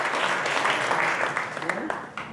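Audience clapping at a local council gathering, a short burst of broad crowd applause under and around a raised voice, moderately loud and fading toward the end.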